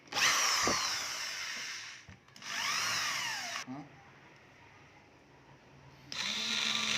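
A power drill bores holes for speakers in a wooden speaker box, with three loud whining bursts, the motor pitch rising and falling, separated by quieter gaps.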